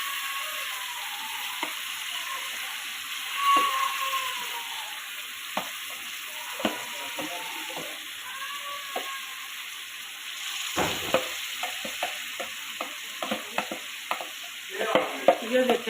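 Stuffed tinda round gourds with masala cook in a pan over a medium flame, giving a steady soft sizzle with frequent scraping and stirring clicks throughout and a busier patch of stirring near the end; no one speaks.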